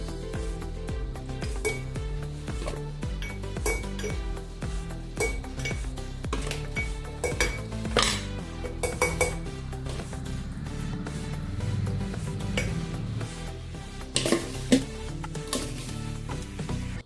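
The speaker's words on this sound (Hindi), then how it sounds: "ये देखिए अभी इसको हम जार में भरेंगे।" Homemade mango pickle is spooned into a jar up close, with a long run of irregular glassy clinks, taps and scrapes of utensil against jar and dish, and no talking.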